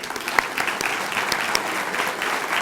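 An audience of parents, community leaders and district partners bursts into steady, dense applause at a school district event, many hands clapping together close and loud with no pause.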